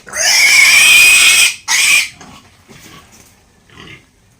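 Piglets on a pig farm squeal loudly and shrilly while being handled, one long piercing squeal followed by a shorter burst, then faint grunts and snuffles.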